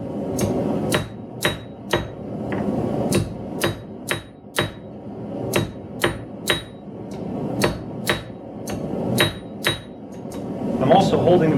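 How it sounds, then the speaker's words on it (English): Sharp metallic hammer blows on an anvil ring out in an irregular series, about twenty angled strikes on a blacksmith's leaf keychain with short pauses, loud and close over a steady background hum. "I'm hitting it quite angled with the hammer, not flat"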